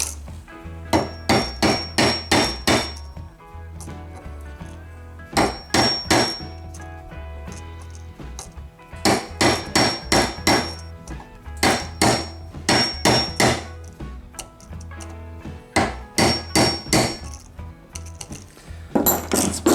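A flat punch hammering rivet tubes with splayed ends, heard as loud, close bursts of rapid metallic hammer blows, several strikes per burst, separated by short pauses over about twenty seconds, with no talking.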